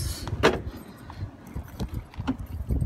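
A bunch of keys for a Suzuki Skywave 400 scooter jangles close by with a metallic clink, followed by quieter handling rattles and shuffling over a steady background hiss; no talking.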